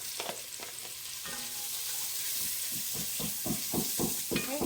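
Shrimp soup ingredients frying in hot oil over high heat, a close steady sizzle and hiss broken by repeated scraping stirs that grow more frequent toward the end.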